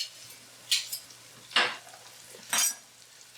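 Butter and pimento olives cook in a pan, with three separate bursts of stirring and sizzling about a second apart over a low, steady background hum.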